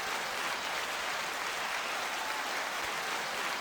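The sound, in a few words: applause sound effect played from a button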